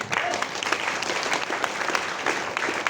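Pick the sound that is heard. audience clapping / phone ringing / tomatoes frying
audience clapping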